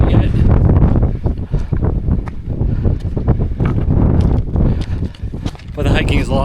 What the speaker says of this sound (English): It's windy again. Common theme of this trip is wind.